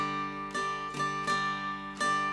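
A mountain dulcimer plucks a short melodic phrase, four or five bright strummed notes ringing over a sustained drone, close and clear with no talking.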